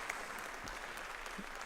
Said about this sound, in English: That final applause there as Pope Francis has concluded his greeting all those present